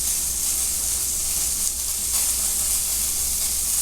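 A sirloin steak sears in a very hot pan, giving a continuous loud hissing sizzle close by, steady throughout with no talking.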